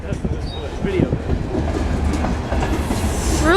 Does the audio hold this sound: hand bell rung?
no